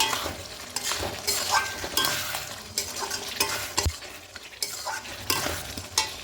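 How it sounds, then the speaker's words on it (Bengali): A spoon scrapes and stirs tomato chicken with garam masala and a little sugar in a sizzling pan, steady rhythmic strokes with occasional clinks of metal over a soft frying hiss. "অল্প গরম মশলাগুলো দিয়ে দেবো আর এখানে অল্প চিনি অ্যাড করব এটা খুব ভালো করে মিশিয়ে নেব"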